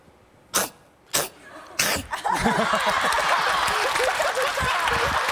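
A voice imitates a sneezing puppy: three sharp, bursty coughs spaced about half a second apart, the third loudest, then noisy chatter and laughter filling the rest, on a TV show set.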